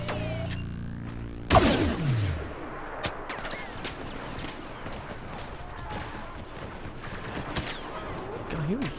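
Blaster gunfire and explosions in a Star Wars Battlefront battle, a sharp blast followed by scattered shots, zaps and rumbling battle noise at moderate loudness throughout.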